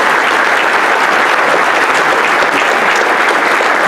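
Loud, close, continuous audience applause at a panel discussion on reputational risk, an even unbroken roar of many hands clapping with no talk.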